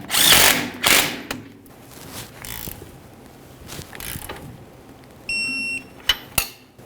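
A rear shock mount nut is tightened on a 1999-2001 Ford Ranger with a 2.3L four-cylinder, heard as short bursts of power-tool whirring and ratcheting clicks, a brief high whine, and a few sharp metallic knocks.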